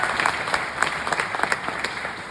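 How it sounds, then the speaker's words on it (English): An audience at a regional pastors' conference claps warmly for the tech crew, a steady dense applause with scattered louder claps throughout, close and alone with no talk. "A big round of applause for all those tech guys back here making this nice for us."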